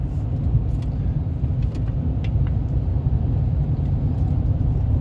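A steady, loud low rumble of a car's engine and road noise from inside the cabin while driving, with no speech.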